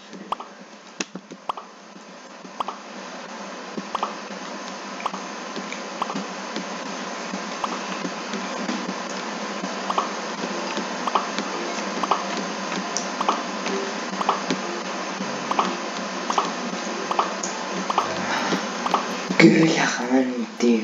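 Rapid soft pops and squishes from pop it bubbles being pressed in the Roblox video game, repeating steadily over a continuous game background, with a brief louder burst near the end.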